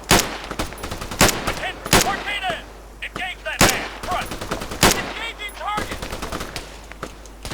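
Heavy gunfire in the ArmA 3 combat game: loud, close rifle and machine-gun shots crack repeatedly in irregular bursts, with shouted voices calling out between the volleys.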